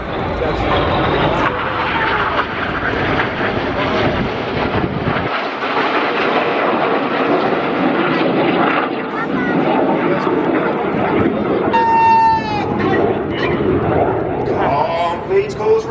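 Red Arrows jet aircraft flying formation and corkscrew rolls at the MCAS Miramar air show, a loud continuous jet roar that swells and fades, with crowd noise and a commentator talking over it throughout.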